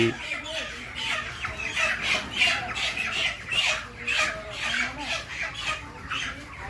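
Broiler chickens on a poultry farm squawk and cluck in a dense, continuous flock chorus at sale time, close and busy, with faint human voices mixed in underneath.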